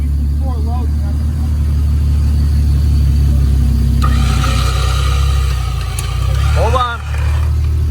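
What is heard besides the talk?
Jeep YJ engine creeping in four low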